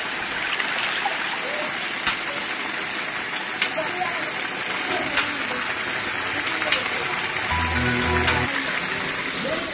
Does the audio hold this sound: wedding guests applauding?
no